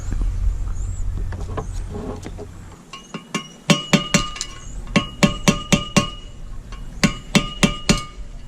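Sharp metallic hammer blows bending lock tabs on a zinc anode nut of a Mercruiser Alpha drive, struck in quick irregular clusters of ringing taps, close and loud, with no talking.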